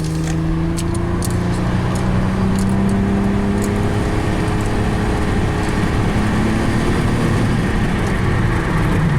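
A Nissan Murano with a low-power complaint accelerates on the road, a loud, steady engine drone heard from inside with rising tones and constant road roar throughout.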